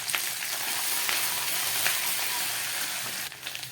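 Ginger sizzling and frying steadily in a pan over low gas flame, with ground cumin added, for a vegetarian chana dal dhoka curry; a continuous close crackle with a brief stir near the end.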